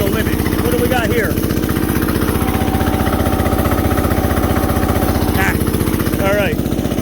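An Onan single-cylinder diesel generator rated for 3,000 watts chugs under load with a steady, loud, rapid thumping drone, while people talk over it.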